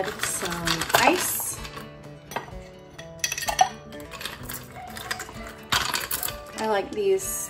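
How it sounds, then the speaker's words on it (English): Small ice cubes clink and rattle into a glass of milk while an iced espresso drink is prepared at home, scattered bright clinks and tumbling knocks over a few seconds with soft kitchen handling sounds. "I'll go ahead and add some ice."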